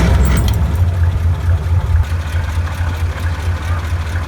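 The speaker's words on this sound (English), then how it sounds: "we're driving around in Brian's 6x6 Flathead Ford" A Jeep Willys 6x6 with a Flathead Ford V8 engine driving, its loud low engine rumble steady and close, rising briefly at the start then holding an even drone.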